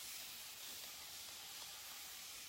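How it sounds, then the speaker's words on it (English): A paint sprayer spraying furniture gives a steady, close hiss of atomised paint that runs unbroken for the full two and a half seconds, with no voices. "Yes, I do love this sprayer."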